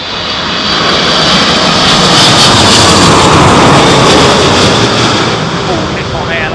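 All Nippon Airways jet airliner landing at London Heathrow in Storm Isha winds, a loud, sustained broadband engine roar with heavy wind buffeting, swelling slightly mid-clip, with faint voices in the background.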